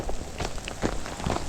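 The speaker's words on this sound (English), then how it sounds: "It's been raining." Steady rain falls on a hiking trail at Pedernales Falls State Park, Texas, a close, dense patter of drops hitting surfaces with scattered louder splashes.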